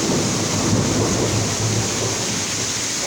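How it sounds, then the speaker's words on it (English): Heavy rain pours steadily during a stormy Florida downpour, with a low rolling rumble of thunder beneath the dense, continuous hiss, loud and close with no voices. "I know y'all heard that thunder."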